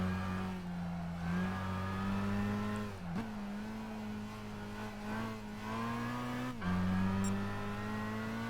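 Engine drone of a racing car driven in Gran Turismo 5, holding a steady high note with brief dips and re-rises as it shifts or lifts through corners, loud and continuous with no voices.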